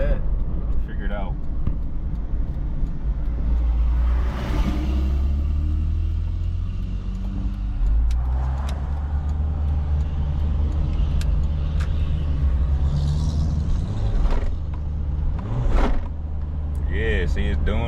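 A Honda CR-V with a faulty transmission rumbles along while driving, the engine and road noise loud throughout, with a few brief thumps and shifts and a person talking over it.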